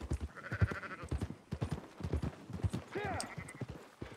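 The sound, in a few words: sheep bleating in Red Dead Redemption 2 (video game)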